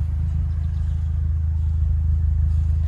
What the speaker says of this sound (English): the reason why the car sounds like that too, it has a has an exhaust cut out